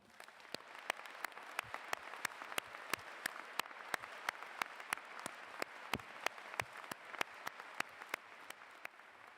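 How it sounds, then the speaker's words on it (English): Applause for student award recipients at a campus awards ceremony, heard as a fairly faint, steady run of evenly spaced individual claps with a soft background hiss. "Please join me in applauding our Student Award recipients"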